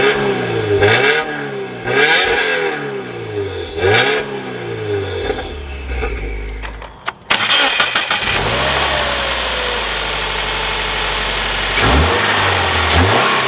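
A 2021 Subaru WRX Premium with a manual gearbox: several starter-like revving pulses, then the engine catches and roars to a loud steady idle, a sharp blip rising partway through, heard up close with no talking.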